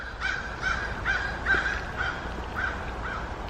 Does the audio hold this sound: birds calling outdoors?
yes